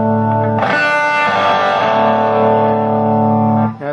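Electric guitar through a 1966 Fender Showman amplifier with a vintage MXR six-band EQ, a sustained, heavily distorted chord ringing loud and alone for several seconds before cutting off.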